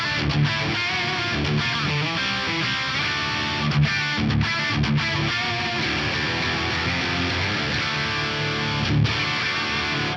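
A distorted electric guitar through a Fractal FM3 Mark II Turbo with London Plate reverb at about 12% mix plays a dense, sustained riff with a short, bright reverb tail, loud and continuous throughout.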